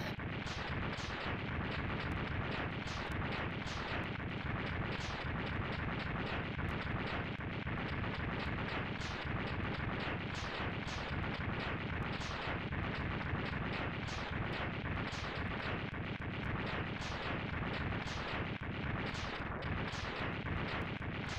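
Continuous dense explosions in the Mega Man X2 video game, a loud unbroken barrage of booms and blasts that fills the whole stretch with no pause.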